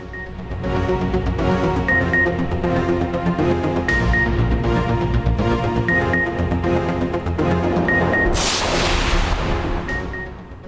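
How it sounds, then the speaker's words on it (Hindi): Dense, continuous booming crackle of fireworks mixed with a loud crowd and music, with a bright burst of crackling near the end. "आतिशबाजी का भी शानदार मुजाहिरा"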